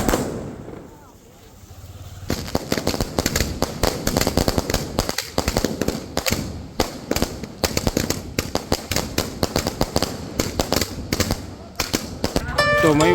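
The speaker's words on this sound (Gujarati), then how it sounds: "જો આ છે આપણી આતશબાજી" Firecrackers and fireworks burst at night during a street celebration, a dense rapid crackle of sharp pops and bangs, close and loud, with a brief lull near the start and voices faintly underneath.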